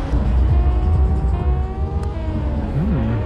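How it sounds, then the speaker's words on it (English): McLaren sports car engine revving out on the street, a loud, close, sustained roar with rising and falling pitch as the throttle changes. "Ooh, McLaren."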